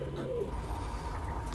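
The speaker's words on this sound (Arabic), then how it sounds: "ده حمام زاجل" Homing pigeons cooing nearby in a loft, a soft low coo repeated over a steady background hum.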